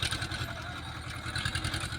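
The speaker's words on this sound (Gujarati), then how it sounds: "જો આપણે ટ્રેક્ટર તમને બતાવશું કેવું હેડે છે" A tractor runs in a chili and brinjal field, its engine chugging with a fast, steady pulsing beat up close and continuous for the whole stretch, no talk over it.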